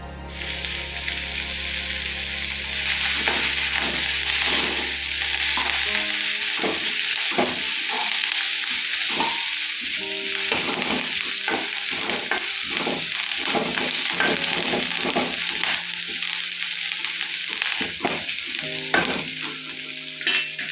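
Onions frying in a pan, browning with a steady loud sizzle for the whole stretch, with occasional stirring scrapes and no talking.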